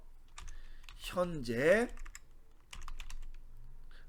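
Typing on a computer keyboard: a few soft, close key clicks come in short clusters, and a voice briefly speaks over them.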